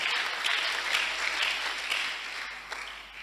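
Congregation in a church claps loudly in a steady, dense burst of applause that tapers off slightly toward the end.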